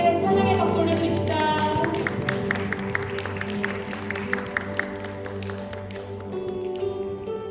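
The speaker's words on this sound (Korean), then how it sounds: "반석하신 주님께 찬양의 박수 올려드립시다." A church congregation at Sunday worship claps in praise, bursts of applause rising from many hands and then fading, under organ or keyboard tones that hold in the background.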